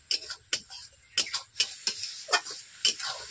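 Tomato and onion spice paste for a katla fish curry being sautéed and stirred in a pan, giving a run of sharp scraping strokes at an uneven rhythm over a faint sizzle, close by, with no talking.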